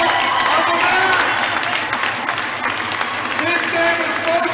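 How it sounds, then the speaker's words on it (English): A crowd at an indoor soccer match between the Wichita Wings and the Omaha Kings applauds the visiting Omaha Kings, a dense, steady wash of clapping and cheering that lasts the whole stretch with voices mixed in. "can we give a round of applause for the Omaha King coming in here and giving us a hell of a match?"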